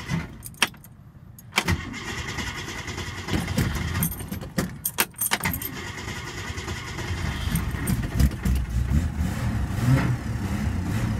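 A flooded generator engine being cranked, with metallic key and handle rattles followed by repeated labored turning-over bursts and a rough, sputtering running sound that swells toward the end, close and without speech.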